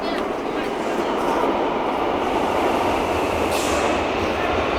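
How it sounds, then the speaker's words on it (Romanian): A metro train pulls into a station at night with a loud, steady roar and rumble that fills the space, while people talk nearby. "Hai că vine metrou, hai că vine metrou."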